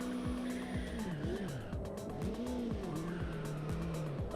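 A race car in the Automobilista 2 racing game skids with wavering, repeated tire squeals over a steady engine drone at moderate volume.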